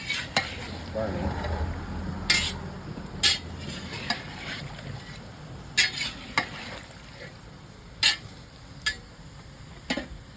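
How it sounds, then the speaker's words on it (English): Pork frying in a pan while a utensil stirs it around, giving a steady close sizzle broken by sharp clinks and scrapes of metal against the pan every second or two. "Just stirring the pork around so it's not sticking and burning."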